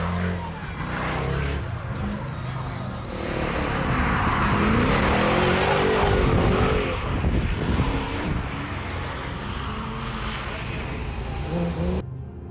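Nissan 200SX drift car sliding across a wet section of track, a loud engine roar building and falling with tire hiss and spray noise, continuous over several seconds without voices.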